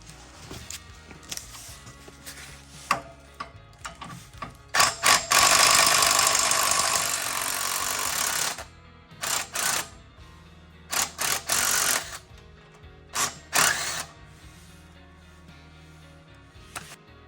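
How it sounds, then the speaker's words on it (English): A ratchet with an 18 mm socket works a bolt loose while removing a steering stabilizer on a Jeep Gladiator Mojave. Short bursts of close clicking come in irregular clusters, including one long continuous run, with quiet gaps between and no talking. "the first bolt we're going to remove is the one closest to the tire. That is an 18 millimeter socket"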